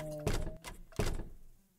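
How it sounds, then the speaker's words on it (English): Two heavy knocks land on a door about a second apart, close and dull, followed by quiet. "Who's knocking at the door?"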